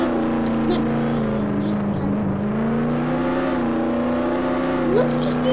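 A Cybertruck engine in a video game drones with steady humming harmonics and slight pitch shifts as it drives, fairly loud and close, with faint game sounds in the background.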